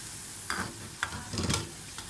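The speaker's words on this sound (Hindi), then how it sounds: "प्याज को मैं लाल नहीं करूँगी, बिल्कुल हल्का सा सोते करूँगी प्याज को।" Onion with beef mince sautés in a pan, a faint soft sizzle broken by a few scraping stirs of a utensil, close and quiet with no talking.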